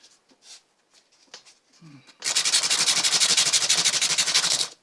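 After a few soft taps and handling noises, rapid rhythmic strokes of sandpaper on a guitar neck scrape loudly and steadily, close up.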